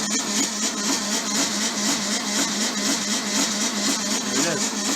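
A VW bus engine on a 6-volt electrical system cranks with its spark plugs removed, a loud, steady, rhythmic churning of the starter turning the engine over, close up and continuous.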